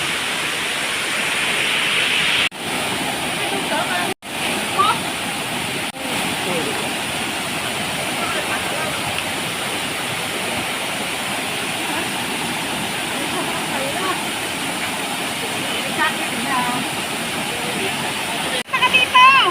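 Shifen Waterfalls in Taiwan pour as a dense, continuous roar of falling water, loud and steady throughout, with a few brief handling dropouts.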